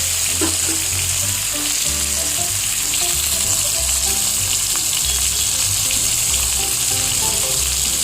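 Potatoes fry in a pan with a little turmeric, a loud, continuous close sizzle and crackle with occasional stirring underneath, steady throughout.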